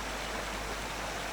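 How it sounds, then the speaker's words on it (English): Meltwater streams in a spring forest in leopard country make a steady, unbroken wash of running water, close and even in level with no other sounds. "to the jingle of meltwaters"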